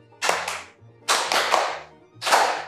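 Children clapping their hands together in three separate quick bursts of claps, each flurry fading out before the next, over a faint low background hum.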